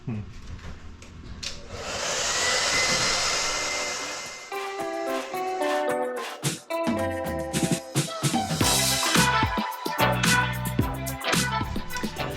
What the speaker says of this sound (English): I'm just using the blow dryer and actually peeling off the wallpaper